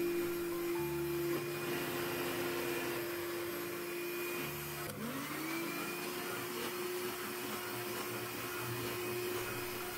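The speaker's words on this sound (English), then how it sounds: "Continue beating until the sugar thoroughly mixes with the eggs." An electric mixer beats eggs with gradually added powdered sugar for a chocolate cake batter, giving a steady, continuous motor whine that holds at one pitch for the whole stretch, with a brief dip midway and no talking.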